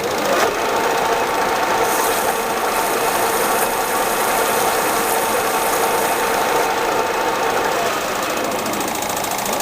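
Metal lathe cutting an internal radius chamfer shaped like a spherical socket, fed with coolant, producing a loud continuous whirring, chattering machining drone that holds steady for the whole stretch.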